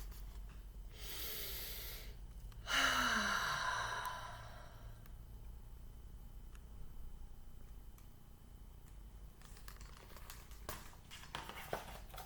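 Slow, quiet breathing from a resting girl: a soft long exhale, a pause, then a fuller sighing breath, followed by calm near-silence with faint small rustles.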